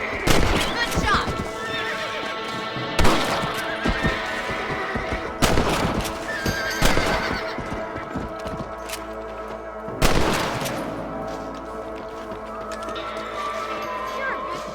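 Horses whinny and hooves clip-clop in Red Dead Redemption gameplay, loud and close, with sharp gunshot-like bangs breaking through and voices speaking underneath.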